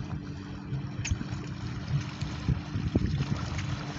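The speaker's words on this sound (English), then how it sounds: "So now you can hear the waves as they came through" Small waves from a passing boat's wake washing in around someone standing in the water, a low continuous churning slosh with a few brief splashes, fairly close, under light wind.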